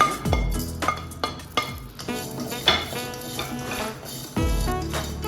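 Spices for Mangalorean chicken sukka fry together in a pan, with a steady sizzle broken by metal spoon scrapes and clinks against the pan.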